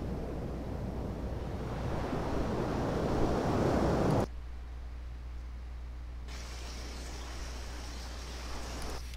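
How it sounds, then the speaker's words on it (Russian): Steady wash of ocean surf with a broad rushing roar that drops off abruptly partway through, leaving a quieter low rumble and hiss. "Но у нас здесь просто шум океана."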